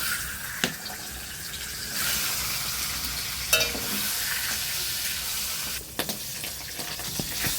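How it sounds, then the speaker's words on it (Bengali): A fish head fries in turmeric and salt in a wok, a steady broadband sizzle running throughout with a few louder crackles and spatters standing out near the start and toward the end. "মাছের মাথাটা প্রথমে ভেজে নেব"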